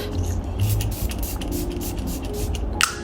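Several quick airy hisses of a Caudalie Beauty Elixir facial mist spray bottle, short bursts in a row with a sharper spritz near the end, close by.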